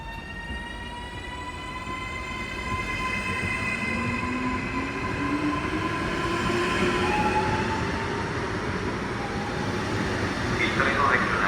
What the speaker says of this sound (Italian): di Trenitalia proveniente da Verona Porta Nuova e diretto a Venezia Santa Lucia delle ore 14:45 è in arrivo al binario 9.